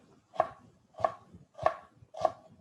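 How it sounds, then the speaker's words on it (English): A chef's knife dices an onion on a cutting board, four crisp even chops spaced about half a second apart, close and alone with no talk. "I'm using that same claw to hold that onion in place and guide the knife. So I get nice even dice on that onion."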